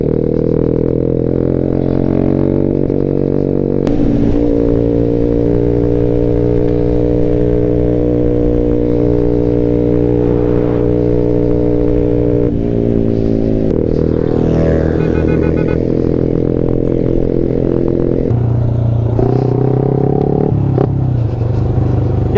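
A loud 2008 Yamaha motorcycle with very large tires runs close by, its pitch shifting as it revs and changes speed, with occasional clattering bumps along the ride.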